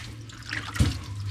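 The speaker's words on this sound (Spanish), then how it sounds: "Se lava con abundante agua" Running water splashes steadily as a vegetable gets a generous rinse at an outdoor countryside spot, with a brief louder slosh partway through, close and clear.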